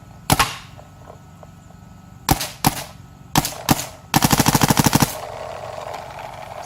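A Shocker paintball marker fires several loud, sharp single shots outdoors, followed by a rapid string of about a dozen quick shots.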